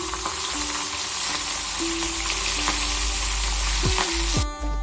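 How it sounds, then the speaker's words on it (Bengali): Fish frying in a wok, the start of a fish curry with potato and eggplant, gives a steady, close sizzle and hiss throughout, broken by a few brief utensil sounds near the end, with no talking. "এখন আমি মাছটাকে ফ্রাই করে নেব, অল্প ফ্রাই করে নেব।"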